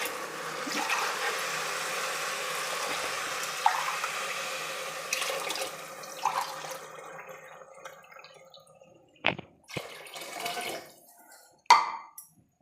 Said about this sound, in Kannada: ನಾಲ್ಕು ಗ್ಲಾಸ್ ಆಗೋಷ್ಟು ಅಕ್ಕಿನ ನೀರನ್ನ ಸೇರಿಸ್ಕೊಳ್ತಾ ಇದ್ದೀನಿ